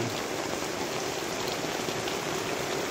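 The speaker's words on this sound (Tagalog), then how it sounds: "Umuulan dito sa Puerto Salingka po." Steady, dense rainfall in Puerto Salingka patters down continuously on nearby surfaces, a constant broadband hiss with no voices.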